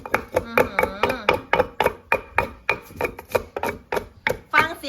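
Rapid rhythmic pounding of chili in a mortar, sharp thuds in a steady beat with scraping in between, and a faint voice murmuring in the background.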